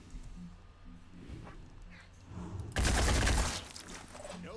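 Gunfire from three soldiers shooting in the video game Phoenix Point, a quieter stretch of low rumbling and scattered shots, then a loud dense volley of overlapping shots near the middle.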